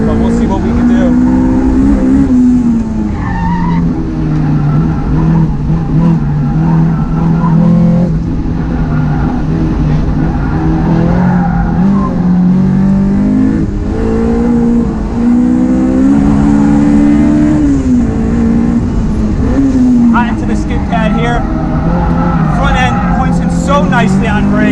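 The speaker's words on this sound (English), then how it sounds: "Love the S2000, sharp steering." A Honda S2000 race car lapping a track, its engine droning loud and close with rising and falling pitch through shifts and braking, while a driver talks over the engine noise.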